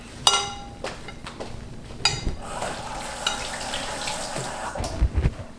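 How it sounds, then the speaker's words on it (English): A kitchen tap runs steadily while hands are wetted before handling sticky French bread dough, with scattered clinks and splashes over a continuous watery hiss. "At this stage, I am going to wet my hands, just like the spatula."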